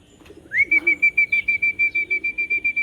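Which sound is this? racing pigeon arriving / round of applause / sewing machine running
racing pigeon arriving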